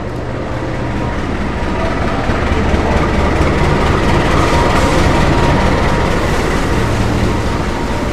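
The Sancaka Utara train rolls into Cepu station with a loud, steady rumble of wheels and cars that builds slightly through the middle and holds to the end.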